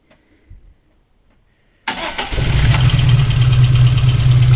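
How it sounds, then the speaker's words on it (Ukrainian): A VAZ 2115 car engine with lost compression and misfiring in the first cylinder cranks and starts after near silence, then runs loud and close with a rough, uneven idle. "Можемо бачити, що він троїть. І йдуть у нас пропуски по першому циліндру."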